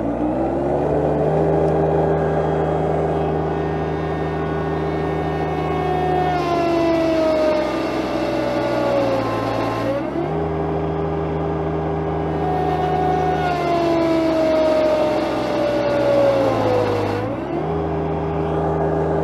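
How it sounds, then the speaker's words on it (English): A Yanmar 424 tractor engine held at rated RPM during a static pull test in high range four-wheel drive, a loud steady drone that rises and strains in pitch under load, then eases and climbs again. "I'm going to run it up to rated RPM to get the most power that we can get."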